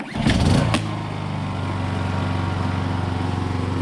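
A Honda generator engine starts with a short, loud rattling burst, then settles into a steady, close, droning hum with an even rhythmic pulse.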